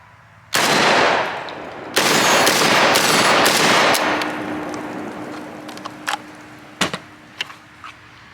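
A JTS AK-style 12 gauge shotgun fires Winchester number 6 loads at a range. A loud close blast rings out, then a heavy burst and several sharper shots follow. Echoes trail off into a few fainter cracks.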